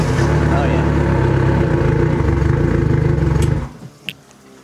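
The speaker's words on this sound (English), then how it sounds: "Both of these batteries crank really well because this Yamaha doesn't like to be cranked slowly." A Yamaha outboard engine runs loud and close at a steady idle-like rumble, then cuts off abruptly near the end, leaving quieter background with a short click.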